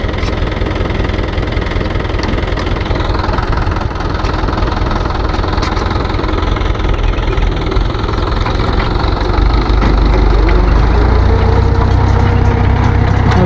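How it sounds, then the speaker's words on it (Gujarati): A tractor engine runs loud and close, a constant low rumbling throb that grows heavier near the end as it pulls away. "પાછું ટ્રેક્ટર ઉપડી ગયું હવે"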